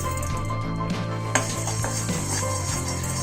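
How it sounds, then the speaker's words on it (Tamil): A quarter cup of coriander seeds dry roasting in a kadai, with scattered light clinks and scraping as the seeds are stirred against the pan, over a steady low hum. "ஸோ அந்த கால் கப் தனியாவை நான் ஃப்ரை பண்ணுறேன்"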